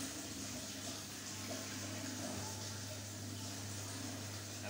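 An LG washer-dryer drains water in its engineer test mode, giving a steady rushing, gurgling hum with a low pump drone, constant and fairly close with no breaks.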